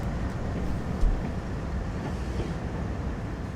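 A train in Train Sim World 3 rolls along the rails with a steady, continuous low rumble and faint wheel clatter. The sound stays even throughout, with no voices.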